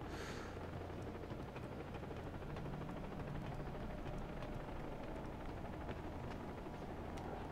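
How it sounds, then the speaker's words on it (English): Helicopters lift off in the video game Far Cry 3 Blood Dragon, making a steady, dense whirring roar that fills the whole stretch with no speech over it. "wait, the helicopters are taking off."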